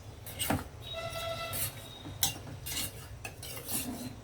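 Chicken pieces mixed by hand with salt and turmeric in a bowl, giving close, irregular wet squelches and scattered clinks and scrapes of utensils against a dish, with a brief faint tonal beep partway through.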